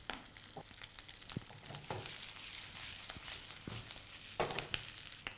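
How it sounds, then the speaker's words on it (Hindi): Boiled, peeled potatoes crushed by hand in a hot pan, with steady frying sizzle and soft squishing and stirring sounds throughout, close and fairly quiet, no talking. "हाथ से क्रश करना है, फुल मैश नहीं करना"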